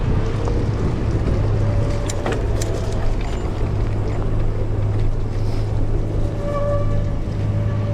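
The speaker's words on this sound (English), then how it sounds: "Tugboat." A tugboat on the water gives a steady low engine drone at a distance, heard alongside wind rushing over the microphone from a passing bike ride.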